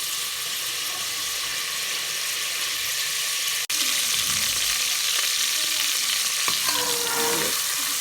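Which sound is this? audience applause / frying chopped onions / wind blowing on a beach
frying chopped onions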